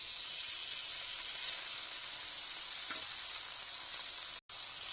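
Salted, turmeric-rubbed parshe fish frying in hot oil in a wok, a loud, steady, bright sizzle that holds evenly throughout, with a sudden brief dropout near the end.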